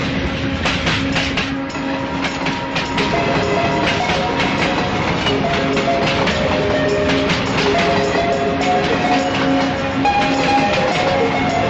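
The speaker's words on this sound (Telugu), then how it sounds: "ఆ రోజు ఎప్పట్లాగే బాండ్రా రైల్వే స్టేషన్లో నడిచొస్తున్నాను." A train rolls steadily through Bandra railway station in Mumbai, with continuous loud rumbling and rhythmic clickety-clack of wheels over rail joints that persists throughout without a break.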